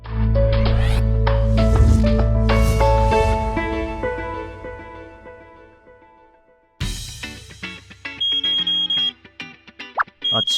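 A morning alarm clock rings with a bright chiming melody that fades out, then a second burst of sharp, repeating electronic beeps and tones follows, loud and alone.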